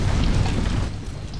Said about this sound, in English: They're being supported by artillery fire.